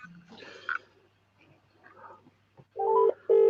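A phone rings with an incoming call during a reseller hangout, faint electronic tones first, then two loud tonal beeps near the end, with no talk over them.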